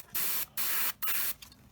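Paint is sprayed onto a 1/35 Tamiya Sd.Kfz 250/3 Greif scale model in three short, close hissing bursts separated by brief gaps.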